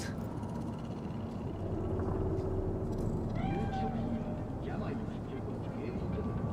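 A cat in the Cyberpunk 2077 video game gives a couple of short, close meows over a steady city hum, while people talk nearby.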